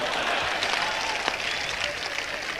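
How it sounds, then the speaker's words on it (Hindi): An audience at a ghazal and song recital in Dewas claps together in a brief burst, dense and fairly close, with a faint murmur of voices mixed into the clapping. "ताली बजाओ यार।"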